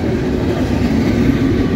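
A Norfolk Southern intermodal freight train, led by a freshly rebuilt AC44C6M locomotive, rolls past close by with a loud, steady rumble and rhythmic clickety-clack of wheels on rail.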